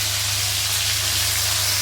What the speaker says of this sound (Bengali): এবারে ওই তেলের ভেতরে যে করলাটা আমি কেটে রেখেছিলাম এরকম লম্বা লম্বা করে, করলাটাকে একটু ভেজে তুলে রাখবো।